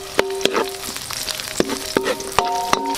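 Onion sizzles in hot oil with garlic and ginger as the base for braised pork leg, a steady crackling fry broken by sharp clinks of a spoon or spatula against the pan.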